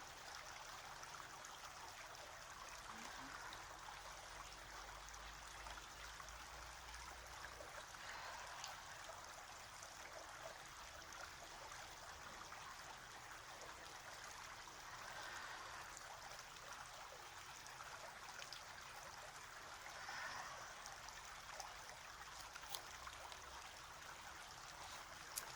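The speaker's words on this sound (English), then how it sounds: "I wanted you to see this sweet brook I've been practicing next to." A babbling brook flowing steadily outdoors, a continuous soft rush and trickle of water heard alone with no voices, even and unbroken throughout.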